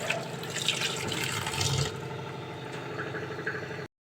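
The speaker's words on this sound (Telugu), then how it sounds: "పోహా ఉన్నాయి కదా, వీటిని జస్ట్ వాటర్లో కడగాలి" Poha washed under running water, a steady close splashing and trickling that fills the whole stretch and stops abruptly near the end.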